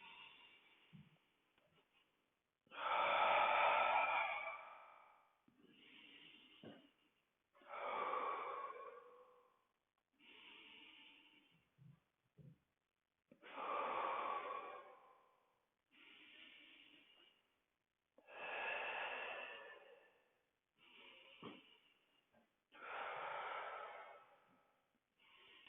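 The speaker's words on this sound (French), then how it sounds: "On souffle avec la bouche. On inspire avec le nez." A person doing Pilates breathes rhythmically, blowing out through the mouth and drawing in through the nose, in about ten loud, close, breathy pushes spaced a couple of seconds apart with quieter inhales between, no talk.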